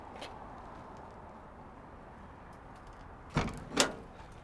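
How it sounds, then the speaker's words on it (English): A 1971 Chevrolet C10 Cheyenne truck door clunks twice in quick succession, two sharp, fairly close knocks rising out of a quiet background hum. "the doors on this truck open and close very well"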